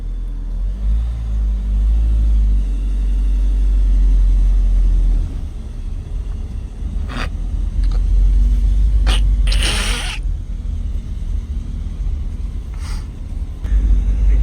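A car creeps along at about 12 km/h on a difficult road, with steady low engine rumble and scattered sharp clicks and knocks from the track, loud and close throughout.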